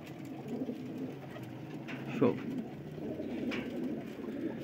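Pigeons coo softly in a steady background murmur, with one brief louder call near the middle and a man's short spoken word nearby.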